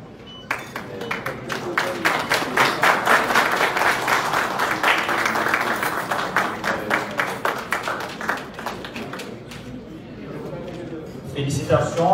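At a ceremony in Haiti, an audience applauds ONA director general Ronald Basile. The clapping starts abruptly, swells to a thick, loud peak, then tapers into scattered claps before a brief final burst.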